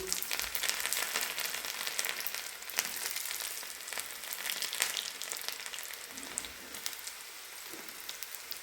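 Garlic frying in a cumin tempering for dhaba-style dal tadka, giving a steady, close, crackling sizzle that runs unbroken and fairly loud from start to finish.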